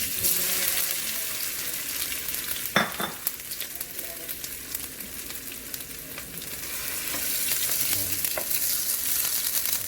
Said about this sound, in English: oil is hot. We're gonna add some cumin seed here and then some potato.